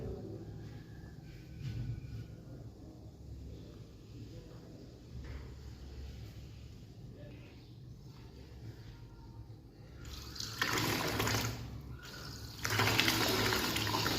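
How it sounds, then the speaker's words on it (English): A small homemade 12V DC water pump hums faintly with trickling water, then a louder rush of splashing flow comes in toward the end. "And here you can see this water pump working."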